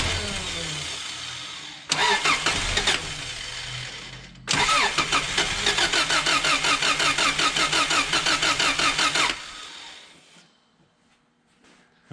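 A 2003 Subaru Baja with a P1512 idle-control fault cranks, catches briefly, stops, then restarts and runs at a loud, close, pulsing low idle before shutting off into near silence.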